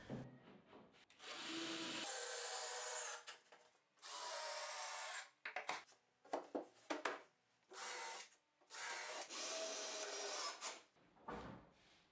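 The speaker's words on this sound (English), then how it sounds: "After cutting all their parts, I screw them on." Power drill or driver screwing wooden parts onto a workbench in a home workshop, heard as repeated loud whirring bursts of a few seconds each, separated by short pauses and brief clicks, with no talking.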